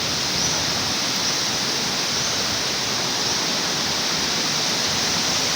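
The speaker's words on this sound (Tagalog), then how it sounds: "Oh, lakas talaga ng hangin na yun." Loud, constant roar of strong wind blowing steadily close to the microphone, with no pauses.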